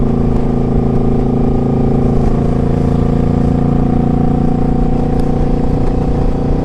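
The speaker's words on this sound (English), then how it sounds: "Now this one with the exhaust on it, it's definitely a little loud." A 2006 Suzuki Boulevard C50T motorcycle fitted with a loud aftermarket exhaust rides along with a steady, deep, rumbling engine drone, loud and close throughout with no talking.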